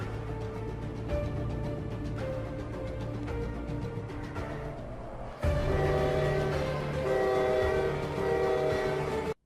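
A train in a video game's winter update rumbles steadily with sustained horn-like tones, growing abruptly louder partway through before cutting off at the end.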